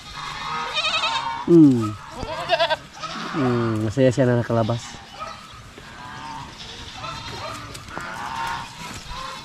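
Goats bleating near rocks, several quavering cries in quick succession close by, with a person talking between and over them.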